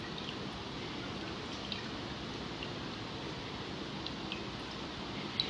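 Water drips and trickles steadily from squeezed chhena, fresh paneer curd for ras malai, a soft, continuous wet patter, fairly faint and close, with no voices.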